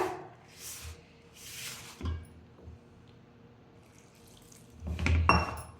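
Water poured into jowar (sorghum) flour dough in a home kitchen: a few soft splashing bursts, then a louder, fuller pour near the end, heard close against quiet background hum.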